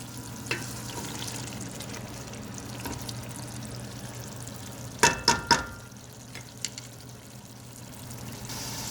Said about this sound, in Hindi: कोई 5 मिनट हमने इसको तेज़ आंच पे अच्छी तरह से भूना है